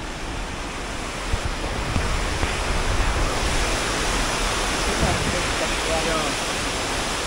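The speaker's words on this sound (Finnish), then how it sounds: "Tästäkin pudottautuu taas vesi aika alas." A steady, loud rush of water dropping from a height in Fiskars village, a continuous broadband roar filling the scene without a break.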